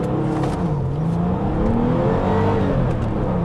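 A Porsche accelerates hard from a standstill through a 0 to 60 run, its engine loud and close, the note climbing steadily and holding at full strain with no voices over it.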